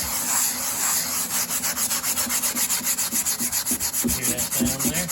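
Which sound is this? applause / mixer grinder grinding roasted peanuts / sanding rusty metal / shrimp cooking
sanding rusty metal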